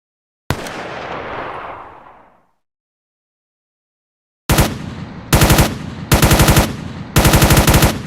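Gunfire from ACS 2.0.1 gun system weapons in a Roblox game: a single loud shot rings out and fades, then after a pause several sharp bursts of rapid automatic fire follow, loud and close.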